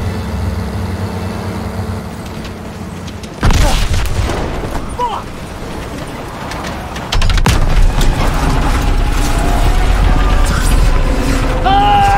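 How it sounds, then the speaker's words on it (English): A grenade blast in the World War II shooter Call of Duty WW2, set near Argentan, France, hits as a sudden loud boom and is followed by a second heavy burst, with rumbling battle noise continuing throughout. "Grenade!"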